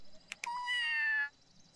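In the video game Scribblenauts Unlimited, a single cat meow, a drawn-out rising and falling cry lasting about half a second, preceded by two short clicks.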